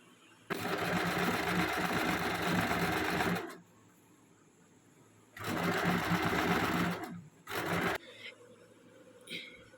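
A sewing machine fitted with a stitch guide presser foot runs two loud sustained stitching bursts of about three seconds each, then a short third burst, with quiet pauses in between.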